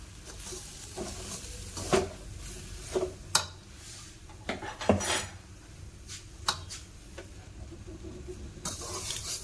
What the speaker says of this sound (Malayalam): അപ്പം നമ്മുടെ അരിപ്പൊടിയും സൂചിയും നമ്മൾ ഒന്ന് വറുത്തെടുത്തിട്ടുണ്ട്